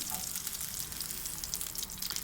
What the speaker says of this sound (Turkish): Bunları kızartıyorum. Bu biberleri.